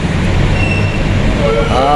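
Light rail train at the Green Avenue LRT station, a loud low rumble of the train and station bustle with a brief rising mechanical whine near the end, up close.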